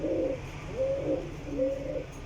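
Pigeons coo in a steady repeating rhythm, three soft rolling calls spaced about evenly over a faint hum, from a loft of champion racing pigeons.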